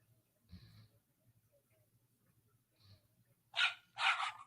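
Two sharp dog barks ring out close together near the end, loud against an otherwise quiet room with faint murmuring earlier.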